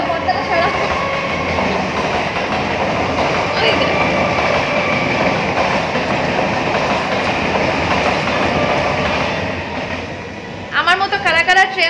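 A train passes close by with a loud, continuous rumble and rail clatter that fades near the end, where a voice briefly speaks.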